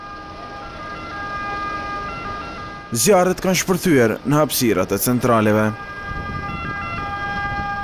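Ambulance siren during an emergency response exercise after a simulated earthquake and fire, a loud wailing tone rising and falling close by for several seconds, while a reporter talks over it.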